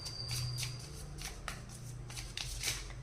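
Tarot cards being shuffled by hand, a quiet, close riffling and sliding of the deck in repeated bursts, with no talking.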